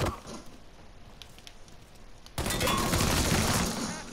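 In the Mafia 3 video game, a low background rumble gives way to a sudden loud, sustained burst of gunfire at about the midpoint that continues to the end, with no speech.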